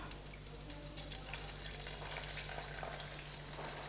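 Chicken frying in hot oil in a deep fat fryer, a steady dense sizzle and bubbling crackle running throughout at an even level, with no talk over it.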